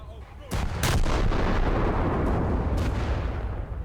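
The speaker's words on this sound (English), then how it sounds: "my secondaries are my best chance of hitting him. And they are scoring multiple hits." Secondary guns of the battleship Scharnhorst fire in the War Thunder naval game. Several sharp, booming shots land over a loud, continuous rumble of gunfire and blasts.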